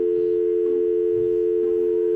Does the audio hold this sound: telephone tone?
yes